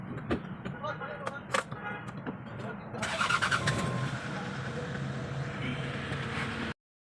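Hyundai Bongo engine with replaced injectors starting up: a few seconds of cranking and clattering, then the engine catches and settles into a steady, fairly loud idle. Some faint talk is mixed in.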